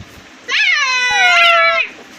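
A cat gives one long, loud, drawn-out meow up close, rising and then falling over about a second and a half against a quiet home background.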